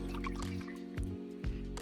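Water sloshes inside a fallen coconut picked up on a farm, with a few soft, close, liquid knocks in a quiet outdoor setting and no talking.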